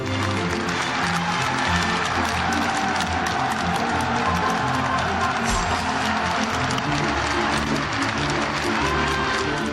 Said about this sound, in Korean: 시민들은 차 가까이 다가와 죽음을 걸고 자유를 찾아온 이들의 용기에 박수를 아끼지 않았습니다.